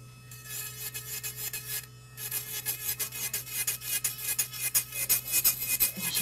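An electric nail drill machine running at 30,000 RPM on a nail, giving a steady high motor whine with rhythmic rasping pulses as it grinds, close and continuous without talk.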